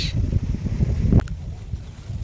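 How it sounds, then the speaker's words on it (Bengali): Strong gusty wind buffets the microphone outdoors, a loud, uneven low roar that swells and eases for a couple of seconds, with a brief click partway through. "কি বাতাস"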